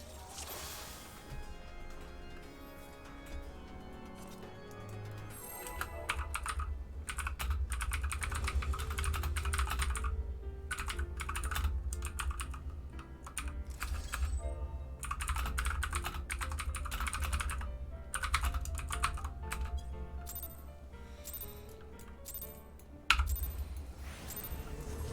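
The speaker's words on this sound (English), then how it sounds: "Just typing what I figure out into the chat for people" Steady typing on a computer keyboard, with rapid, dense clicks running for about twenty-five seconds over a low background rumble and game music, plus one sharper clack near the end.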